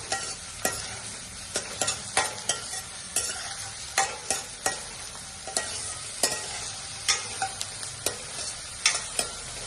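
Chopped onion and capsicum sizzle in a hot pan for schezwan fried rice, with a steady frying hiss and frequent sharp scrapes and clanks of a spoon stirring, close and clear, with no talking.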